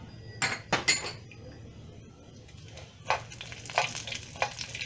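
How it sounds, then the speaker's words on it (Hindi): Mustard seeds and cumin crackle in hot oil in a pan, with sharp bursts of popping early on, a quieter lull, then further spatters and pops near the end, close and fairly faint. "जीरा और राई तड़कने के बाद"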